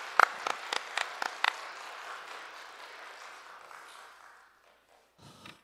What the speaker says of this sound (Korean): 자 박수로 맞이하도록 하겠습니다